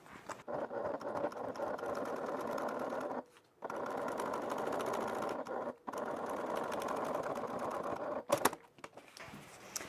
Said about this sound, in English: just go ahead and stitch through the back because you're stitching above your previous stitch line or right about at it